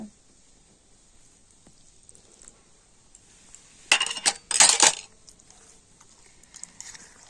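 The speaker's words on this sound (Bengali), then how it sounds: "দুধ দিয়ে ব্যাটারটাকে ভালো করে গুলে নেব" After a long quiet stretch, a short cluster of clinking, scraping strokes sounds up close as semolina batter is whisked with warm cow's milk in a bowl, then it fades back to near silence.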